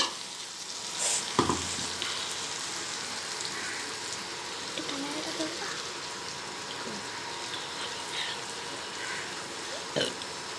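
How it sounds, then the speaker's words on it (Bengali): Onion and chili paste hits a hot pan and fries with a continuous soft sizzle and light bubbling, punctuated by a couple of sharp clacks of a spoon against the pan. "দিয়ে দিচ্ছি পেঁয়াজ লঙ্কা বাটা"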